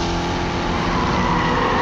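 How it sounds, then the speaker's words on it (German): A car engine in the racing video game Need for Speed Unbound hums loudly and continuously, with a rough, full roar. "Das Auto soll schön brummen."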